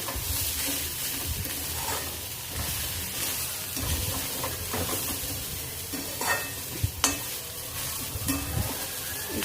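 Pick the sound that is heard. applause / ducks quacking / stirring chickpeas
stirring chickpeas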